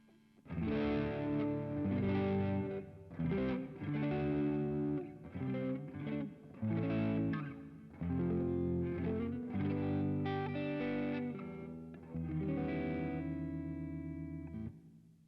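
Electric guitar played through a Boss Katana MK2 amp on its hall reverb setting, distorted chords and riffs in short phrases with lingering reverb tails, loud and close, no voices.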